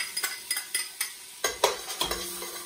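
Diced shallots going into melted butter in a pan on medium heat for cream of mushroom soup, with soft sizzling and a string of light stirring taps and utensil clinks against the pan.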